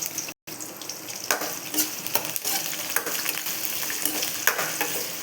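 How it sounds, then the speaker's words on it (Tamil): Onions sautéing in a pan for bitter gourd kuzhambu give a continuous close sizzle with repeated scraping stirs and clinks, one brief dropout near the start, and no voices. "வெங்காயம், வெங்காயம் நல்லா வதங்கி வரணும்."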